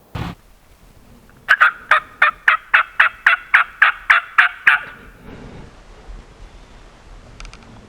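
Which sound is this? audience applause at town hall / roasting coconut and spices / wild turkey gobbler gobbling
wild turkey gobbler gobbling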